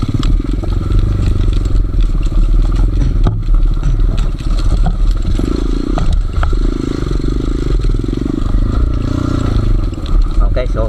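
A small off-road motorcycle drones along a rough trail in Benguet. The engine hum is loud and close, mixed with constant rattling and scraping from the bumpy ground.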